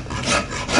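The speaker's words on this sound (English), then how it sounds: "The filing process also is a corrective process, because as you file, you should be able to control your file." A rat file rasps across a wood carving to level and correct the chiselled surface, two close, rough strokes in quick succession with no talking.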